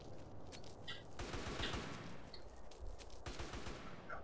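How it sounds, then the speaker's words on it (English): Rapid bursts of gunfire in the video game GTA San Andreas, a dense fusillade of repeated shots crackling fairly loud and steady through the whole stretch, with no talk over it. "Who's shooting at me, by the way?"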